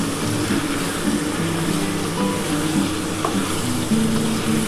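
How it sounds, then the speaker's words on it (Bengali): Four green chillies frying lightly in a pan for a chilli-chicken-style dish, a steady close sizzle with faint stirring scrapes throughout, no voices. "এই যে 4টে কাঁচা লঙ্কা দিয়ে দিলাম। এটা একটু হালকা করে ভেজে নিচ্ছি।"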